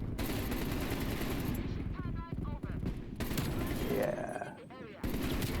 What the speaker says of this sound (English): This AK-47 is pretty fun.